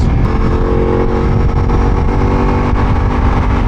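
A Ducati Multistrada V4S motorcycle engine drones steadily while riding, a loud, close, continuous hum with wind rush and no break in the sound.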